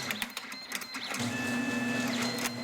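An automated wire cutting and stripping machine processes spark plug wire with a steady mechanical whir, rapid clicks of the blades closing, and a sustained motor hum, close and moderately loud.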